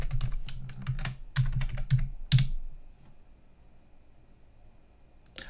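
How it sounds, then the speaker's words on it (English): A password typed on a computer keyboard while setting up a Raspberry Pi: a close, quick run of crisp key clicks with short pauses for about two and a half seconds, then near silence. "So I'm going to enter password now."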